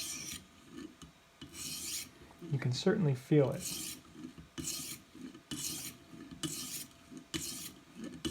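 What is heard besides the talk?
kitchen knife with burr sliding on sharpening stone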